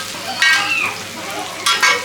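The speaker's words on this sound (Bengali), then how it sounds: "রাখছিলাম গাজর আর ক্যাপসিকাম ওটা দিচ্ছে। এটা সুন্দর করে ভাজাই আছে" Carrot and capsicum stir-frying in a pan for restaurant-style hakka noodles, a soft sizzle with two short bursts of louder scraping and hissing from stirring, close by and alone.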